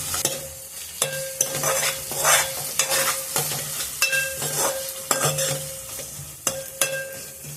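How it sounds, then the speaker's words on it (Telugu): Ginger garlic paste sizzles in a pan for a green chilli chicken curry while a spoon stirs it. Sharp utensil scrapes and taps land about once a second over a low, continuous frying hiss. "అల్లం వెల్లిపాయ పేస్ట్ వేసుకొని నీట్గా కలిపి పెట్టుకోవాలి"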